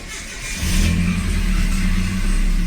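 A drift truck engine with a stock exhaust runs rough and loud nearby, its low rumble swelling as it revs up and holding a steady drone.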